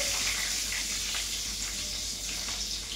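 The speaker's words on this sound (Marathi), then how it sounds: "त्यामध्ये मी आता मिरची टाकून घेणार आहे." Green chillies drop into hot oil with cloves, a cinnamon piece, black peppercorns and cardamom, giving a steady, bright sizzle and crackle close up, with no talking.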